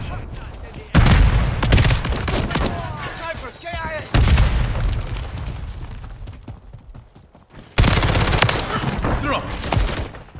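Submachine gun fire in a first-person shooter video game: loud, rapid bursts that break off and restart several times, mixed with booms and clatter from a busy battle.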